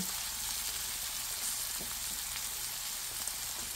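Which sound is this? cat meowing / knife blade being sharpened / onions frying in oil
onions frying in oil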